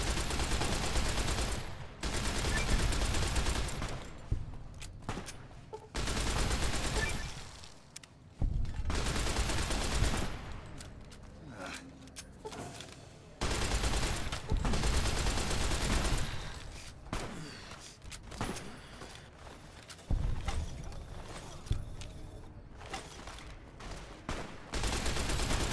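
Sustained bursts of heavy gunfire from a firefight in Fallout New Vegas, loud automatic volleys repeating in long stretches with short gaps between.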